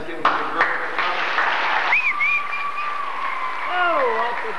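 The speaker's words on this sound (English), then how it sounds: "let's give them a big round of applause" An audience at a small-town follies show claps for a few seconds, then the applause thins as tonal, voice-like sounds and talk rise over the fading clapping.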